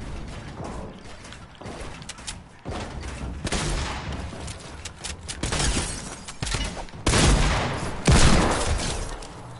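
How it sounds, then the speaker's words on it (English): Gunfire from a video game gun, a series of sharp shots and mechanical clacks spread across the clip, growing louder toward the end, with no talking. "Can I hit a shot with this gun?"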